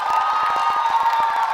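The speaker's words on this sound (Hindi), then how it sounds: "तालियां जोरों से बजाइए आपके लिए।" An audience at a Dev Anand quiz event in Jaipur claps in a quick, dense patter, the applause close and steady throughout with some cheering mixed in.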